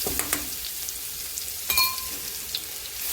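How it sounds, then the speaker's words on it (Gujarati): Cumin and ginger paste sizzling in hot oil in a pan, a steady bright frying hiss with a few small pops and stirring clinks, close and alone without voices. "હવે આપણે તેમાં જીરું તથા આદુની પેસ્ટ ઉમેરી લઈશું"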